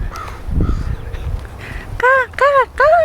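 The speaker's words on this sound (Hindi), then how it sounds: "कराची का कौवा यहाँ भी बोल रहा है" A house crow caws three times in quick succession, loud and close, each call harsh and nasal, following a stretch of quieter background noise.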